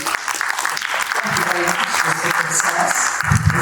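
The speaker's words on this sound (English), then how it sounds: "may we please continue and give a huge round of applause to our esteemed dignitaries" Audience applause fills a panel discussion hall, a steady dense clapping that stays loud and continuous throughout, with some voices mixed in beneath it.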